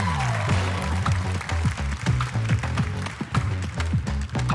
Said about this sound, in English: Also, round of applause again.